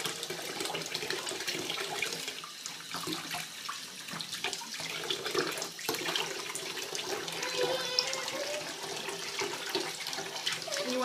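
Water runs steadily from a tap while hair is washed, a continuous splashing hiss with small gurgles throughout.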